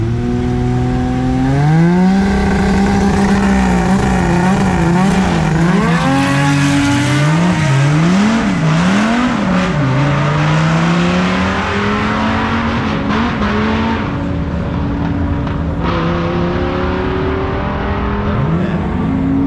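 A Chevelle drag car with a four-cylinder engine runs loudly at Hot Rod Drag Week, its revs rising and wavering in repeated swells, a close, sustained roar that later settles into a rough steady drone.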